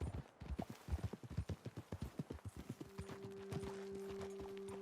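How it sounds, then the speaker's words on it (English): Rapid clip-clop of horse hooves in the video game Red Dead Redemption 2, loud and rhythmic, slowing to a stop as a steady tone hums underneath. "Okay, let's dismount here. Best leave the horses back a bit."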